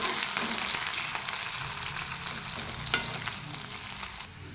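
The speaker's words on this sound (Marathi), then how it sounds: "चांगला लालसर तळून घ्यायचा आहे।" Chopped onions frying in hot oil in a pan for green chilli pithale, a steady close sizzle with light stirring scrapes and one sharp clink, no voices.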